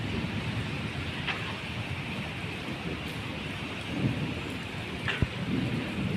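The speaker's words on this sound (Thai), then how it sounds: "โอ้ทางไทยกับฝนตกเลยทางไทย" Steady rain falls in Vientiane while thunder rumbles now and then, with one sharp crack near the end, all at a moderate level.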